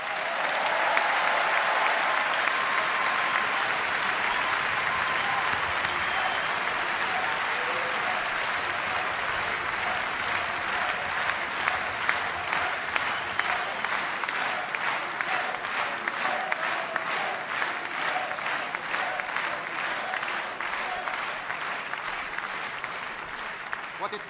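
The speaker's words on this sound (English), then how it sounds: "We can all applaud together the great Mozart." A large audience at a political rally claps together in sustained, dense applause for Mozart, steady and loud throughout with scattered sharper claps.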